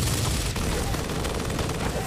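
Rapid bursts of gunfire during a firefight in Gears of War, loud and dense, with a sharp crack about halfway through as the shooting continues.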